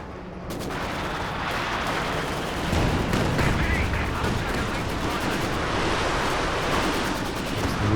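Katyusha rocket barrage in the Company of Heroes 2 strategy game, a dense, continuous roar of overlapping explosions and crackling impacts with battle noise throughout.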